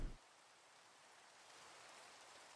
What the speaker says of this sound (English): Oh, and here comes the rain.